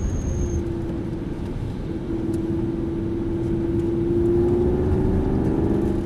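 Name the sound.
Aston Martin V8 Vantage pivoting in third gear and re-accelerating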